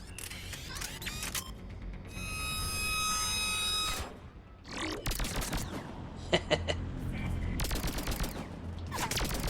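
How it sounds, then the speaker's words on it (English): Heavy sniper rifle shots in Mass Effect 3 combat, several loud sharp blasts separated by bursts of other game noise and a sustained electronic tone, with sporadic clicks between. "Let's use our awesome sniper rifle here."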